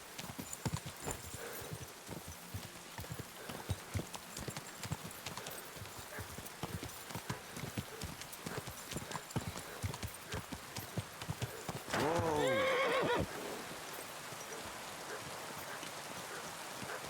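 Horse hooves clip-clop steadily in the game Kingdom Come: Deliverance 2, rain pattering underneath and a horse whinnying once midway, close and fairly quiet.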